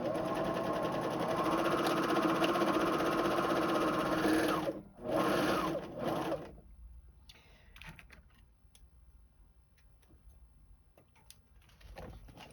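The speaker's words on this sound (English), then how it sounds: "I'm going to go right over to my serger to clean up that edge." A JUKI serger overcasting the cut edge of fabric for a zipper bag runs in a loud continuous whir for about five seconds, pauses briefly, runs again, then stops, leaving faint handling clicks.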